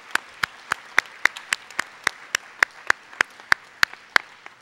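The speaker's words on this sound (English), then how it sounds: "Give yourselves a round of applause." Sharp, distinct claps ring out in a quick, even rhythm at a 2013 college scholarship celebration in Cleveland. About twenty crisp hand claps sound close by, standing out individually rather than blending into a dense crowd roar.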